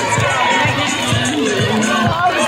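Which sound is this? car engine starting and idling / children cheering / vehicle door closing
children cheering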